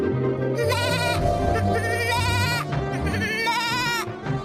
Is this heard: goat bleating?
yes